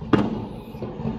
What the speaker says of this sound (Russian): Вот салюты везде